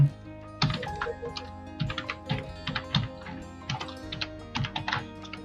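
Keys on a computer keyboard clack in irregular bursts of quick strokes, close and moderately loud, with short pauses between clusters as text is entered.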